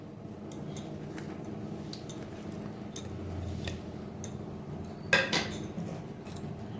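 Chopped tomato and onion are tipped onto small fish being prepared for patudi: soft taps and clinks of a utensil against a dish, then a louder clatter near the end, with no talking.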